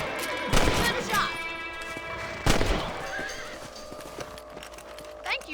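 Horses in the Red Dead Redemption video game whinny and neigh over clip-clopping hooves, with a couple of louder thumps or shots and characters talking in the background.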